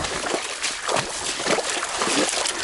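Footsteps wade through shallow swamp water in Big Cypress, Florida, making a rhythmic series of close sloshing splashes about every half second with no talking.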